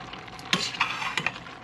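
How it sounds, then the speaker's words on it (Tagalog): A spoon stirs a simmering pinakbet Filipino vegetable stew in a pot, making three or four short scraping, sloshing strokes over a low bubbling sizzle, close by and with no speech. "Haluin ko ito para po mailalim mo rin."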